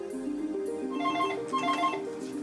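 A phone rings with a repeating electronic ringtone melody from an incoming call, steady and fairly close, with no talking over it.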